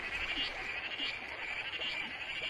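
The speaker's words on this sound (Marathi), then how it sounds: "पावसाला संगीत द्यायला बेडूक प्रजातीही सज्ज झाली" A dense chorus of frogs croaking steadily on a dark rainy-season night, many overlapping calls blending into a continuous outdoor drone with no voices.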